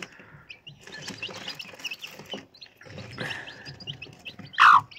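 Chickens in a village yard, soft clucks and chirpy calls scattered over a few seconds, ending in a louder sharp squawk close by, with no talking.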